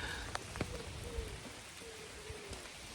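Rain falling steadily, a soft hiss of drops striking a surface with a few sharper close drips standing out, moderately quiet and with no voices.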